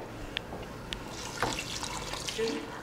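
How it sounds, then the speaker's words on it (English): Boiling water is poured into a pot of steaming rice, a continuous close splashing trickle with a few clinks of the pot, under faint background voices. "So now we're gonna add some boiling water."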